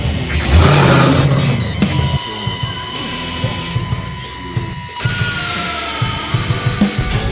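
A Dodge Challenger engine revs loudly up close, starting with a strong burst, then settling into a rough idle with repeated sharp blips, alone without talk.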